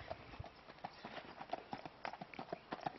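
A horse's hooves clip-clopping at a steady walking rhythm, close and fairly quiet, with a faint voice in the background.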